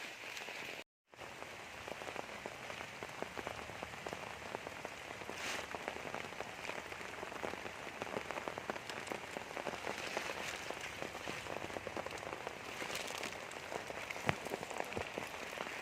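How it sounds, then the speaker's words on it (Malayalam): Steady monsoon rain pattering on a surface after two or three days of downpour, a dense even hiss of drops with a few brief louder splashes, continuing throughout without any voices. "മഴയാണ് തോടും പാടൊക്കെ ഫുള്ളൊന്നായിട്ട് രണ്ട് മൂന്ന് ദിവസത്തെ മഴയാണ്"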